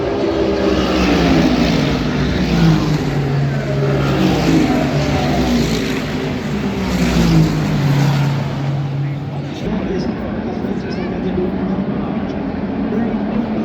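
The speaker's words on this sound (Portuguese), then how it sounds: "à medida em que os carros foram se afastando e o grid foi se espalhando pela pista" Endurance race cars roar past on the track during a live race, a steady loud engine drone with rising and falling pitch as the spreading field goes by, no pauses in the noise.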